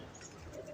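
Pigeons of a mixed breed coo softly in a short burst, a low throaty murmur close by with faint chirps behind it and no talking.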